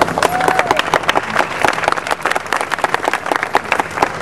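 An audience at a budget press conference breaks into a brief, busy burst of clapping that is close and fairly loud, with crowd murmur mixed in.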